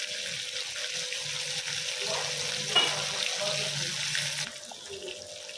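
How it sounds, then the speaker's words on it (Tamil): Fish fries in oil in a home kitchen, a steady close hiss and gentle bubbling that carries evenly, with a brief clatter partway through before the sizzle drops a little quieter. "மீன் வந்து நல்லா பொரிஞ்சிடுச்சு பாருங்க, எப்படி நல்லா வெந்துடுச்சு."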